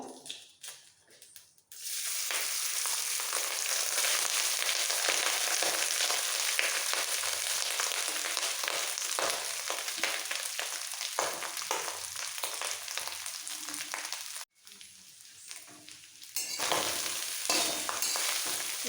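Cooled boiled basmati rice hits hot ghee and oil with fried whole spices for basanti pulao, setting off a loud, continuous close sizzle with stirring scrapes, a brief break near the end, then sizzling again.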